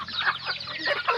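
Chicken clucking close by in a short burst of rough, rapid clucks and squawky calls, with no talk.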